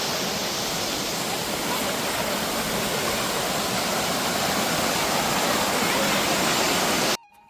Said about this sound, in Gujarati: ગિરનારમાં નદી નાળા ચાલુ થઈ ગયા.